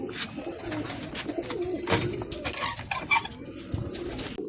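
Pigeons cooing with bursts of wing flapping in a busy loft or coop, close and steady, with scattered knocks and rustles throughout.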